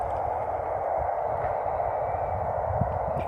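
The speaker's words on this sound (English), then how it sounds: "You can hear a train going by." A train passes somewhere out in the Scottish countryside with a constant low, broad rumble that holds steady throughout, with no other distinct sounds on top.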